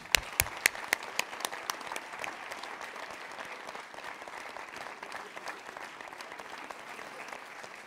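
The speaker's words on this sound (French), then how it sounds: "je demande un tonnerre d'applaudissements pour la présidente du comité d'organisation de ces assises de l'EPS 2022, Léa Gotsman." An audience at a national conference applauds: dense, steady clapping with a few louder individual claps at the start, moderately distant and sustained throughout, with faint talk beneath it.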